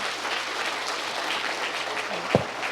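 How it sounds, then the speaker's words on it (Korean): Applause from a lecture audience at a regional academy talk given by a provincial governor, a steady continuous patter of many hands filling the room, with one brief louder knock near the end. "오늘 뜻깊은 강연을 해주신 김영록 지사님께 다시 한번 힘찬 박수 부탁드립니다"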